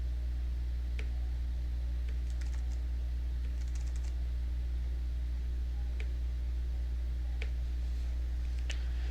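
Sparse, light keystrokes tap on a computer keyboard while a Google Form is filled in. Isolated clicks come a second or two apart over a constant low electrical hum.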